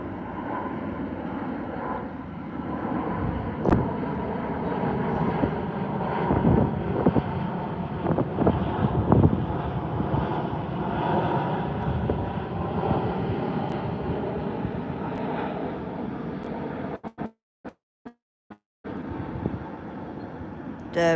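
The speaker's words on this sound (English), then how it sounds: "This is a Boeing 787-9 Dreamliner." A Saudia Boeing 787-9 Dreamliner departing Heathrow's runway 09L in the evening, heard as a steady, loud engine roar with wind buffeting that holds for most of the stretch, then breaks up into gusty dropouts near the end.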